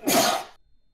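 A single sharp sneeze bursts out loud and close, then cuts off into near silence.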